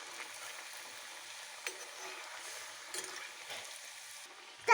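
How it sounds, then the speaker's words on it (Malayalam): Shaped snacks sizzle steadily in hot oil in a home kitchen, a soft continuous hiss with a few brief pops and a louder clatter at the very end. "ഷേപ്പിൽ ആക്കി നമുക്ക് ഈ ചൂടുള്ള എണ്ണയിലേക്ക് ഇടാം."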